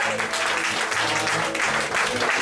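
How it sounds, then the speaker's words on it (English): Audience applause at a cabaret show at Don't Tell Mama, a dense, sustained clapping from a crowd that stays loud and steady throughout. "please give them a big round of applause"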